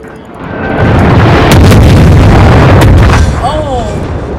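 Warship video game battle with naval guns firing and shells exploding, a loud sustained barrage of booms and blasts rolling together, with a brief whistling tone near the end.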